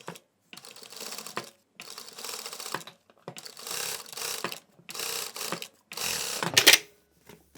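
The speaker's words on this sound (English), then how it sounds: "so we'll be sewing to the edge here and then we'll be sewing another stitch inwards" A sewing machine stitches a hoodie seam in several short bursts, each a rapid mechanical patter separated by brief pauses, close and fairly loud without speech.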